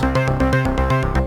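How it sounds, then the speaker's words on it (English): A Moog-style synthesizer sequencer on an Arturia AstroLab pulses in a quick, steady pattern of bright, buzzy notes, loud and close with no voices. "this really cool Moog soundy sequencer sounds"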